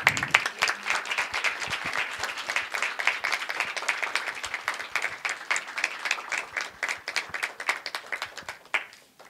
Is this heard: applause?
yes